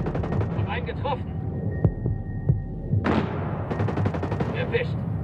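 In the video game Ghost Recon Breakpoint, gunfire cracks as a few isolated shots and then rapid bursts over a steady low hum, with a voice talking intermittently.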